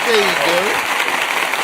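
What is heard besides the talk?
round of applause from podcast hosts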